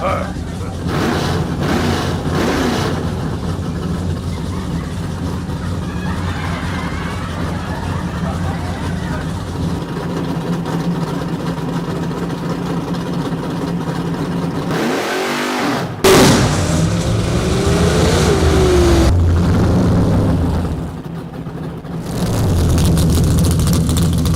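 A car engine runs steadily while driving, a loud continuous drone with a brief rev and dip midway, with people talking over it throughout.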